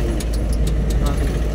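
Road traffic in the town of Podili, Andhra Pradesh: a steady, close rumble of vehicles runs throughout, with brief higher clinks and squeaks cutting through it and voices talking over the noise.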